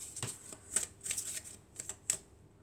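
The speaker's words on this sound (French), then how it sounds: "Je vais changer un peu la façon de tirer les cartes." Oracle cards are shuffled and drawn by hand in a series of soft riffling bursts, close and fairly quiet, with no talking.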